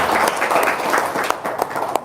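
Audience applause follows a motivational religious talk in Indonesian, with dense steady clapping sustained for about two seconds, moderately loud and close, with a few sharper individual claps near the end.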